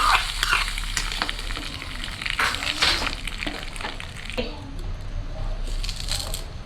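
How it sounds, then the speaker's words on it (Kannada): Dried red chilies, mustard seeds and curry leaves crackle and sizzle steadily in hot oil, with occasional stirring scrapes. "ಇಲ್ಲಿ ಎಣ್ಣೆ ಹಾಗೆಯೇ 1-2 ಕೆಂಪು ಮೆಣಸು, ಸಾಸಿವೆ ಹಾಗೆ ಕರಿಬೇವು ಹಾಕಿ ಒಗ್ಗರಣೆ ಕೊಡ್ತಾ ಇದ್ದೀನಿ"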